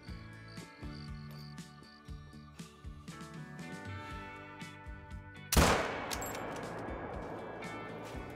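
A single loud rifle shot fired at a kudu in theHunter: Call of the Wild on the Vurhonga Savanna map: a sharp, sudden crack with a long rolling tail, breaking a quieter stretch of ambient sound and insect chirps.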